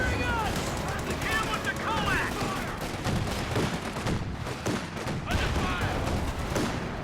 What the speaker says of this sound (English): I have to push up and start shooting at him with our bazookas.